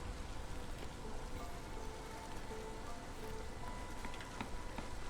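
Steady rain in the video game Against the Storm, a dense, even hiss of falling drops with faint patter, quiet and continuous with no talk.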